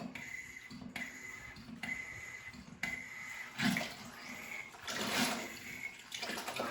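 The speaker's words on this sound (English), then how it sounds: "Water's coming out." Water pours from an overflow pipe in a fish room, a continuous splashing flow with surging bursts and brief dips, fairly quiet and without talk.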